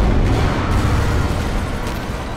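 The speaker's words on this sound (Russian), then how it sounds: "Первый взрыв разворотил весь медицинский корпус." A film explosion blowing apart a medical building comes as a deep, sustained rumble that stays loud and dense throughout, with no voices.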